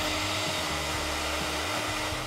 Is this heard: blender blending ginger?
yes